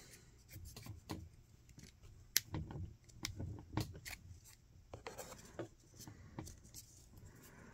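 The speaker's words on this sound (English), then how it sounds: "I'm gonna cut these little ends off here." Small ends are snipped off a plastic part from an Accurail gondola model railroad kit, producing faint, close clicks and scratchy snips scattered irregularly over several quiet seconds.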